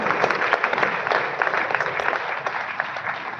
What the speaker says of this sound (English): Please give a big round of applause to Sara's parents.